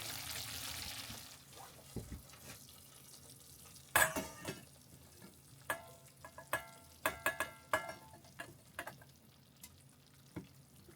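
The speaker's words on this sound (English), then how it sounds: "I think it's simmered for long enough." Food simmering in a pot on a camp stove at a campsite in northern Arizona while being stirred, with a soft bubbling hiss under scattered sharp scraping and clinking of the utensil against the pot, fairly close and alone.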